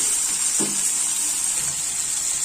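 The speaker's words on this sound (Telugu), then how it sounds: "అందుకోసమని టమాటాలను బాగా మెత్తపడేంత వరకు వేయించుకున్నాము" Tomatoes fry in a pan for ridge gourd and green chilli chutney, a steady close sizzle running throughout with one brief stir or clank near the start and no talking.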